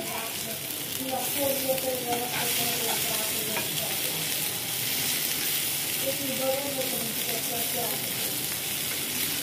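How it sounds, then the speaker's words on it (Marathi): Paneer slices shallow-fry crisp in a pan, giving a steady, moderately loud sizzle with small crackles and occasional stirring, with faint talk in the background. "मस्तपैकी पनीरची शालू फ्राय मस्त क्रिस्पी झालेले आहे"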